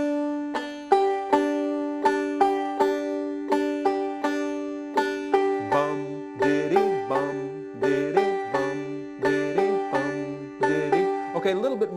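Five-string banjo picked in a steady bum ditty rhythm: repeated bright plucked notes and strums with a low melody line joining partway, played up close with no talking.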